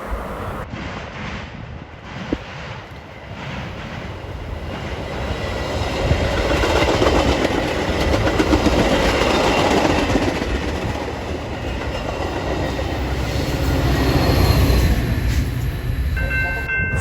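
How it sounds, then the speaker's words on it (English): Union Pacific Metra commuter train in Barrington, pushed by a locomotive, rolling past with a continuous rumble and clickety-clack of wheels that swells midway, with wind buffeting the microphone. "Last train in Barrington would be UNW 722, with Metro 178 pushing."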